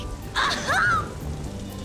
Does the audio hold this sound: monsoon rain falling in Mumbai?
yes